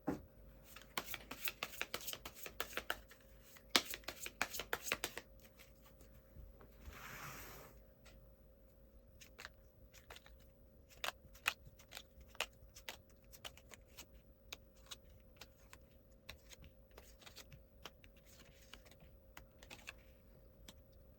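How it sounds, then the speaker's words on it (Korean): Tarot cards being shuffled and drawn at a table, a close rustle and a flurry of crisp slaps in the first seconds, then scattered soft taps and flicks as single cards are laid down. "카드 몇 장 더 뽑아볼게요"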